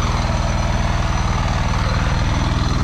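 A loud engine runs close by beside a farm fishpond during harvest of catfish and tilapia, a steady throbbing rumble with a fast regular pulse and no voices over it.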